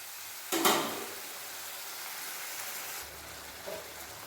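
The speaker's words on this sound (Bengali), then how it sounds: "ভেজানো মশলাটা দিয়ে দেবো মশলাটা ভালোভাবে কষে নেব" Soaked spice paste sizzles and hisses in hot oil in a pan for Bengali egg puri, with a sharp burst as it hits the oil and scraping stirs after, close and steady.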